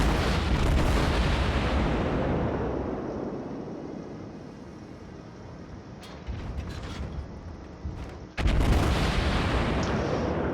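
Heavy naval gunfire from the Aurora, a Tier 3 Russian cruiser with fourteen 152mm guns, in World of Warships: a loud salvo roar fades slowly, with faint mechanical clicks, before a second sharp, loud blast near the end.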